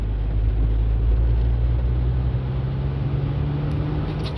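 A Mk4 VW Golf in fourth gear pulls from 30 mph, its engine a steady, close, low droning rumble with road noise that holds level and alone throughout.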